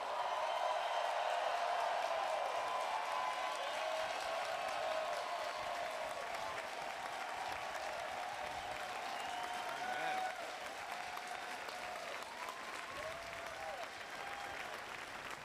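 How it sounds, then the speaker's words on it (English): A large crowd at a 50th-anniversary Stonewall Uprising commemoration applauds in a long, steady wash of clapping, heard from a distance, with faint cheers mixed in and the level tapering slightly toward the end. "I want to hear a thunderous applause for the heroes of Stonewall"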